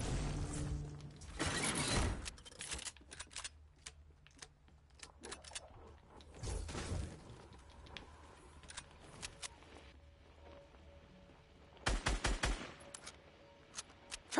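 Gunfire in the Fortnite video game, bursts of rapid shots and sharp cracks at the start, middle and end, separated by quieter stretches of clicks and game effects.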